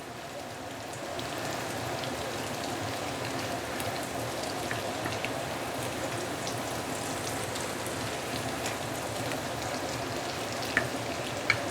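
Dried shrimp frying in oil in a 24 cm wok, a steady, even sizzle and crackle that holds at a constant level throughout, with a couple of sharp clicks near the end and no talking.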